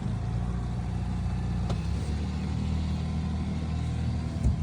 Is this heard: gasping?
no